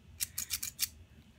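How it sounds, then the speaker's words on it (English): A pair of cheap, novelty patterned scissors snips five times in quick succession. The crisp, close cutting sounds stand alone over a faint background hum. "We are going to use our new scissors."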